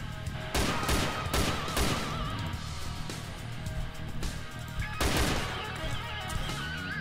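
Rapid bursts of DayZ Overpoch game gunfire crack repeatedly, with two heavier volleys standing out, amid continuous loud action noise.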